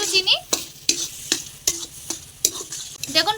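A spatula scrapes and stirs pointed gourd and potato in a pan with repeated sharp clacks, roughly every half second, over a light sizzle; no talking.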